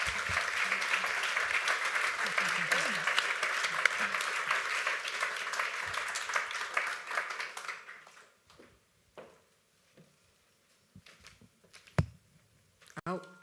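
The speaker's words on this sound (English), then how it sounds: "a round of applause for our panel" Audience applause for a panel at a city wellbeing discussion in Christchurch, a dense crowd clapping steadily for about seven seconds before it fades to a few scattered claps and quiet room noise.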